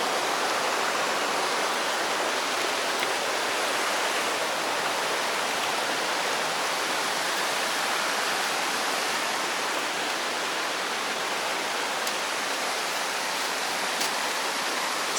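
Steady broadband roar of a cold freshwater waterfall on Bali or Lombok, continuous and fairly close, with no voices over the rushing water.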